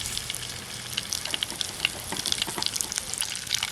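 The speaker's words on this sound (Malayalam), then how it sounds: "കടുക് പൊട്ടി തുടങ്ങി" Mustard seeds popping in hot oil while cooking a green chilli curd curry, with a steady sizzle under scattered sharp, irregular crackles and pops at close range.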